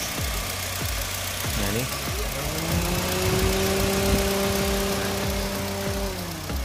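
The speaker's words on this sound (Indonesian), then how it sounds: "ini untuk extra fan, dia nanti akan menyala ketika mesin sudah panas" A hot car engine idles with a steady hum while an extra radiator cooling fan whirs alongside; someone speaks briefly over it.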